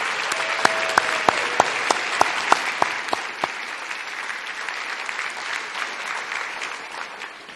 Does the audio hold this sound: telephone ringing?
no